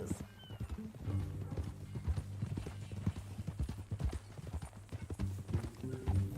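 Horse hooves clip-clop steadily in Red Dead Redemption 2, a close, even rhythm of hoofbeats with a brief whinny, set under a low game soundtrack and occasional voices.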